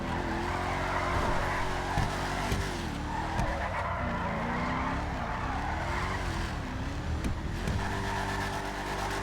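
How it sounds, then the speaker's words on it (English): Tires of a Declasse Mamba car in a video game squeal continuously while power sliding and drifting, the pitch wavering up and down, over a steady loud engine roar. "I found out the car does some pretty good power slides / drifting."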